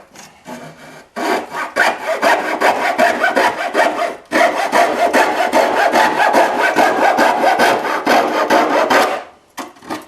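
Hacksaw cutting during a Honda Elite 250 scooter restoration, rapid rhythmic back-and-forth rasping strokes, loud and close, in two long bursts separated by a brief pause, ending in quiet.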